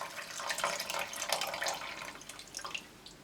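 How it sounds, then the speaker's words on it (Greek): Water pours from a tap into a pot of soaked beans for a traditional Greek bean soup, a continuous splashing and trickling stream that tapers off, with no talk. "θα τα σκεπάσουμε με νερό"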